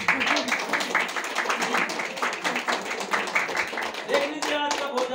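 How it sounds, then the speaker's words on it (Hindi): An audience at a meeting gives a brisk round of hand clapping, dense and fairly close, while voices talk over it near the end. "तो जबरदस्त ताली चश्मा वालों की आप के लिए।"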